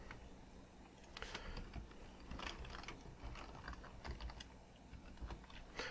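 Quiet, rapid typing on a computer keyboard, with irregular bursts of light key clicks continuing throughout at low volume.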